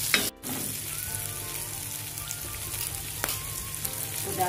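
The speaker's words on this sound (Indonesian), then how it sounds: "Tumis ya sampai udah benar-benar keluar wanginya ya" Spice paste sautés in a pan for a pineapple and sardine sambal goreng, giving a steady close sizzle and frying hiss with a brief dropout near the start and a few soft stirring clicks.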